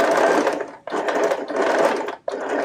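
A sewing machine stitches around a readymade neckline in continuous whirring runs, loud and close, with three short pauses as the fabric is turned.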